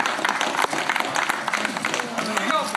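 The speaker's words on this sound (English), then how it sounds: "Why are you clapping?" Audience applause at a poker table, a dense spatter of clapping that fills the short stretch with steady, fairly loud crackle and murmuring voices mixed in.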